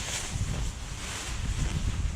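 Low gusting wind buffeting outdoors beside a house while windows are masked with tape, a steady rumbling rush close to the microphone without speech.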